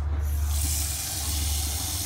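Rubbing alcohol sprayed onto a wound, a steady close hissing spray lasting about two seconds over low background rumble.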